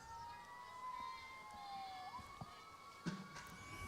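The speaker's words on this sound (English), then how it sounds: "Sirens making their way up and down Coliseum Boulevard." Distant emergency sirens wail along Coliseum Boulevard beside a softball game, with long, faint, steady tones that slowly drift in pitch over quiet crowd ambience and a few soft knocks.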